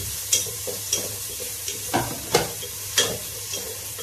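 Spring onion being stir-fried in a pan for Chinese fried rice, with a steady sizzle under repeated scraping strokes of a spatula that come roughly every half second, close and fairly loud, with no talking.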